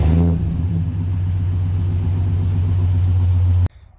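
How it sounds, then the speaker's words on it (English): A Ford XR6 engine cold-starts after a week of sitting: a crank burst, then a loud, steady, deep idle rumble close to the microphone, which cuts off abruptly near the end. "since I got the Monaro, I haven't even started up the XR6 for about a week, so this will be a nice cold start"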